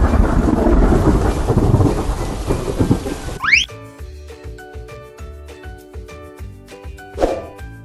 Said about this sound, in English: we call this thunderbolt. Thunderbolt. These are what we can see and hear during the rainy season.